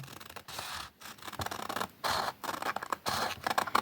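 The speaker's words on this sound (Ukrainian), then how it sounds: "Беремо ножниці у праву ручку, лівою тримаємо папір" Repeated crisp snipping and rustling, like scissors cutting paper, in steady short strokes close by with no talking.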